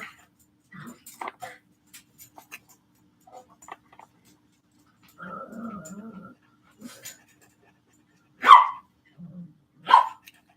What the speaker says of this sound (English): She's an interesting little dog.